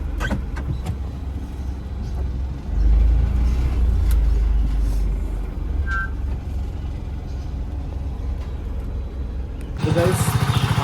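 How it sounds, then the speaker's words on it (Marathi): A car being moved out of a shop: a low, continuous engine rumble that swells briefly after a few seconds, then settles before a sharper burst of noise at the very end. "आता मी ती गाडी बाजूला काढली"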